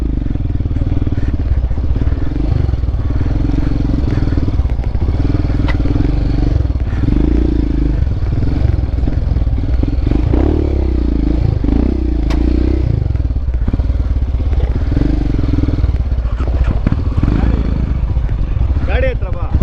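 A motor vehicle grinds and clatters over rocky ground with a steady engine drone, scraping and thumping throughout, while people talk over it.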